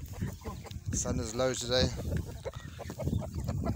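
Farmyard chickens cluck and squawk in short bursts, expecting food at feeding time alongside sheep, with a person talking over them throughout.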